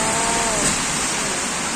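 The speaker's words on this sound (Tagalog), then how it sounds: "Wow, sarap sa pakiramdam kasi umulan." Heavy rain falls steadily in Dumaguete City after a long hot spell, a dense, loud, unbroken hiss that fills the whole moment with no voices over it.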